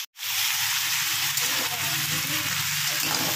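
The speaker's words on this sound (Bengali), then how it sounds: "এটা ভালো করে আগে একটু তেলে ভাজা হবে।" Carrot, bean and potato curry frying in hot oil in a pan, a loud, close, continuous sizzle that starts abruptly after a short silence.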